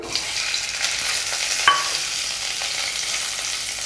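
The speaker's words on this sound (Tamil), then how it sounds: "இப்போ இதில் வந்து நம்ம தக்காளி சேர்த்துக்கலாம்." Chopped tomatoes frying in hot oil in a pan for a coriander and tomato chutney, giving a steady close sizzle with stirring scrapes and a brief sharp clink partway through.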